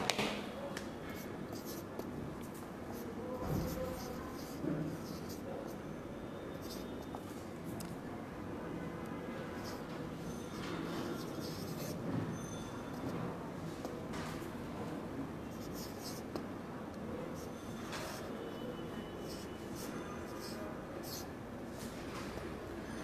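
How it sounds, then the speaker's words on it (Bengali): A pen scratches out Arabic script by hand in soft, faint strokes, with a teacher's voice talking throughout. "লিখে দেখাই"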